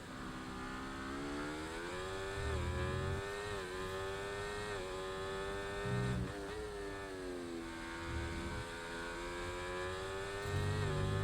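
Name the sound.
race car engine heard on board, from a racing game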